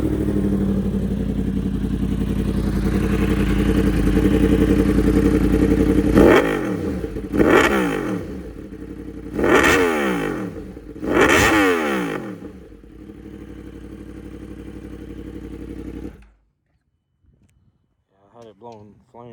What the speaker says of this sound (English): I'm gonna start it up and let you guys hear the exhaust, which is loud as all get out